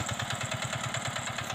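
A hand tractor engine runs steadily while plowing a rice paddy, its close, even, rapid chugging pulse holding throughout with a faint metallic clatter over it.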